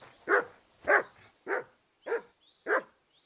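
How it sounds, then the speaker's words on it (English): A dog in Kingdom Come Deliverance 2 barks repeatedly, six evenly spaced, fairly close barks against a quiet background. "What are you barking at?"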